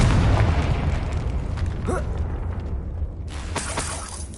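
Confringo fire-blast spell in Hogwarts Legacy going off as a loud booming explosion with crackling burst debris, followed by a second sharper blast and rumbling tail.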